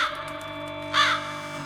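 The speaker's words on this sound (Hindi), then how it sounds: "कौवा खिड़की पे बैठा दोनों को देख रहा होता है और काएं काएं कर रहा होता है" A crow perched at a window gives a single harsh caw, sharp and fairly close, over a quiet background hum.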